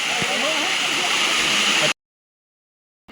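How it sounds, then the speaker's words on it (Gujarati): Heavy monsoon rain pouring at Tapkeshwar Mahadev temple in Gir Gadhda, Gir Somnath, a loud steady wash of water with voices talking over it, stopping abruptly after about two seconds. "વરસાદ છે ફૂલ."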